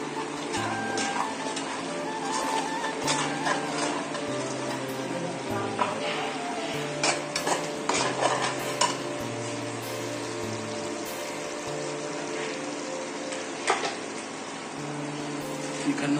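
Chili powder frying in oil in a pan while being stirred, a continuous close sizzle broken by repeated scraping strokes of the spoon, with a low steady hum underneath and no talking.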